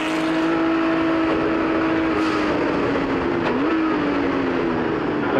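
Vintage race cars, including a 1979 Porsche 935 and a BMW CSL, pull away at a historic reunion race, a loud steady engine drone with a strong tonal whine that dips and rises briefly near the end, continuous and close with no talk.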